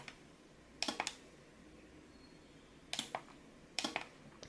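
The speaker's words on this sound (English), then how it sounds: "you can even hear the switch inside the outlet turning on and off" Etekcity wireless remote outlet switch clicking on and off as a plugged-in light is toggled, three short clusters of sharp, fairly close double clicks separated by quiet pauses.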